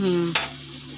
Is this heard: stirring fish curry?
yes